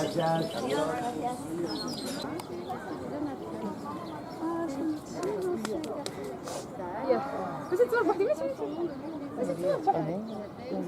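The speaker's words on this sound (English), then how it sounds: "Birds." Birds chirp and coo on a street in Athens, Greece, their small calls scattered among steady nearby chatter of people in the open air.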